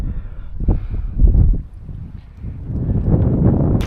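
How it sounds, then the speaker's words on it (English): Strong wind gusts buffet the microphone outdoors during a spearfishing outing, producing loud, low rumbling blasts that rise and fall throughout. "I didn't realise that wind was so effed up"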